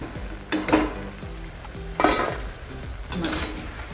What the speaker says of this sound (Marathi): अशा उलटपालट करून छान अशा फ्राय करून घ्यायचे